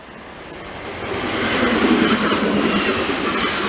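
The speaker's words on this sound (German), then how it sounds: "aus Saalfeld kommend eine Baureihe 442" A DB class 442 electric multiple unit arriving from Saalfeld passes on the Frankenwald ramp line, a loud rising rush of wheels and rail noise that swells and holds steady close by, with no talk.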